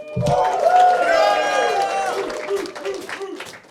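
A live audience at a UCF College of Business event cheers, whoops and applauds loudly, the crowd noise swelling early and then tapering into scattered claps and voices.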